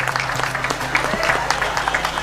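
Applause from an audience at a flag-hoisting event on a golf ground, scattered clapping over a steady low hum, with faint crowd noise throughout.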